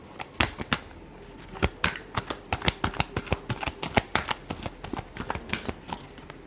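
Tarot cards are shuffled in a rapid run of crisp riffles and slaps, each burst sharp and close, repeating steadily with no talk over it.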